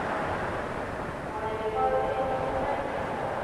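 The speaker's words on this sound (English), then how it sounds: "Here we are at York's railway station, one of the great railway stations of the world." Busy station ambience at York railway station, with a steady rumble of trains and faint tonal squeals or horn-like lines in the middle, a continuous wash of noise throughout.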